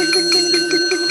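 A small bell rings rapidly and continuously, a bright, steady, repeated ding that fills the whole moment and stays loud and close, with no voices over it.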